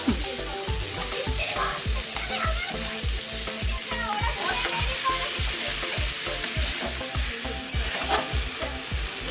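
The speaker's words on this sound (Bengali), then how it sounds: "আমি এই সময় এবার ভেজে রাখা এঁচোড়গুলো দিয়ে দেবো।" Jackfruit pieces stirred into a pan of frying spice masala: a loud, steady sizzle with regular scraping strokes of a spoon against the pan throughout, no voices.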